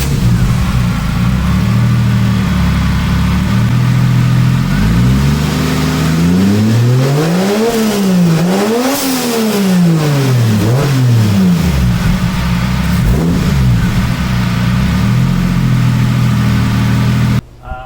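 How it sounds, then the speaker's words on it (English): A 2JZ engine swapped into a Toyota Tacoma, running loud and close, rising and falling through repeated sweeping revs over a steady idle drone before cutting off at the end. "we have a running 2JZ Tacoma"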